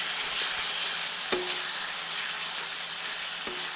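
Spices stirred with yogurt and tomato in a pan over a low flame for matar paneer, making a continuous close hiss of frying with two sharp clinks of the spoon against the pan.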